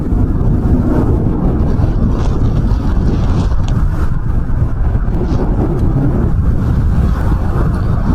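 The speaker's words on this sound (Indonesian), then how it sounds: "Anginnya kenceng" Strong, cold wind roars continuously against the microphone outdoors, a loud, rough, unbroken rumble with no other clear sounds.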